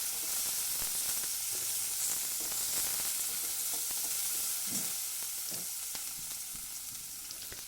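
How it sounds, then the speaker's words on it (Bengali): Chopped tomato stir-fried with browned onion in a pan makes a continuous close sizzle, with occasional spatula scrapes and stirring knocks running through it. "টমেটোটা দিয়ে একটু নাড়াচাড়া করব"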